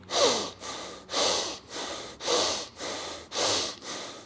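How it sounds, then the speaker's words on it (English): A person does fast, forceful breaths through the nose, about seven sharp inhale-exhale cycles in a steady rapid rhythm, close and clear with no talking. "doing 10 to 20 fast inhale and exhales through the nose"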